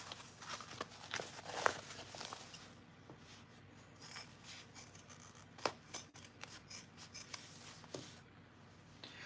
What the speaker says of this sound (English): Trimming it down to 1/8 of an inch, making sure to get all the threads